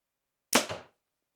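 An Elite Victra hunting bow, a 2026 model, releases a single arrow: one sharp, close snap with a short ringing decay, alone against silence.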